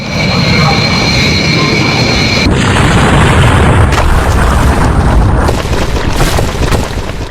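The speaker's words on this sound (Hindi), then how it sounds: "विमान जैसे ही टेक ऑफ करता है रनवे से आगे बढ़ते ही फौरन देखिए क्रैश हुआ, इमारत से टकराया" An airplane takes off and crashes into a building: a loud, close roar of aircraft engines that shifts abruptly partway through into a broader rumbling blast, sustained to the end.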